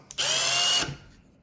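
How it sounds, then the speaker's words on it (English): A Milwaukee M18 Fuel cordless impact driver whirs loudly at high speed for just over half a second, then winds down and stops. "This drill also has 4 different modes where you could limit how much torque you send to it."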